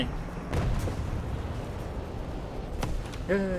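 Booming artillery blasts in War Thunder, a few heavy thuds spaced apart over a rumbling battle din, with a brief tonal chime near the end.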